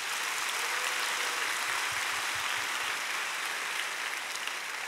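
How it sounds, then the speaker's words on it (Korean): A church congregation at a summer camp gives a round of applause of glory to the Lord, heard as steady, broad, continuous clapping filling the space for about five seconds with no talk over it. "그러면 속상하실 때는 우리 주님께 영광의 박수 올려드릴게요."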